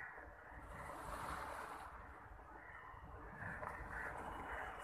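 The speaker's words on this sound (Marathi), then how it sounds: "हा समुद्र आहे." Sea waves wash onto the shore at Mumbai in a steady, continuous surf roar with some wind noise. The sound stays fairly distant and even throughout, with no talk over it.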